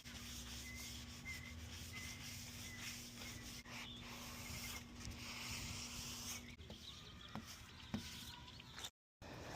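Soapy water rubbed over a car headlight lens to clear outside dust, a steady close scrubbing and wiping swish running continuously with a few small knocks and a brief dropout near the end.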